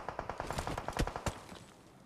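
Rapid bursts of gunfire in the video game PUBG on the Erangel map, a quick regular string of sharp shots with a couple of louder cracks near the middle, with no speech over it.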